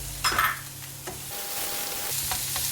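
Fresh tomato going into a pan of sautéing chicken, onion and garlic for chicken caldereta, with a brief clatter as it lands and a steady soft sizzle and stirring underneath.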